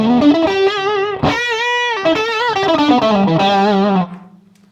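A clean electric guitar through an old Marshall 1987X amp with no overdrive pedal rings out a few chords and bends, bright and fairly loud, with only light grit, fading out at the end.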